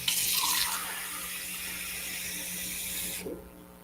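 Water running from a tap to fill a drinking glass, a steady close hiss and splash that cuts off near the end, with no talk.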